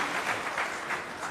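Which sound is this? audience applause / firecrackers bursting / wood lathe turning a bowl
audience applause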